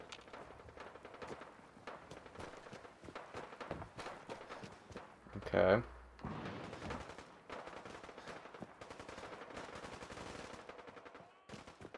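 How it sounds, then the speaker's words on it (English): Gunfire in the video game Fallout 4, a faint, distant run of rapid shots and bursts over about twelve seconds, with one louder crack midway. "Plus, you hear gunshots, so it'll be fun."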